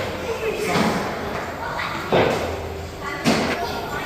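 A door at a Playa del Carmen family resort, a hidden entrance to a teen video-game area, closes with a couple of solid thuds against a steady background of people talking.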